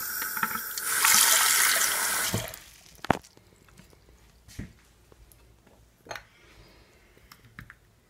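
Tap water runs loudly for the first couple of seconds while small parts of a 1988 Porsche 959 Hot Wheels model car are washed, then cuts off, leaving scattered clicks and knocks of handling the parts.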